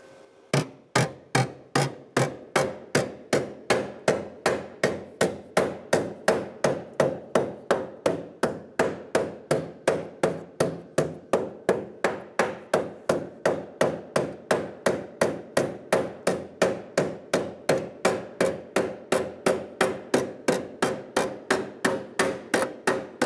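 Sheet metal on a Chevrolet Silverado 2500 cab corner being hammered in a long, steady run of sharp metallic blows, close and loud, evenly spaced at roughly two or three strikes per second with no voices.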